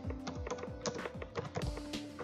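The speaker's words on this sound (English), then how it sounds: "go down to the search bar and type in Paint 3D" Quick, light clicking of keys on a computer keyboard as a short word is typed into a search bar, a close, fairly quiet run of taps.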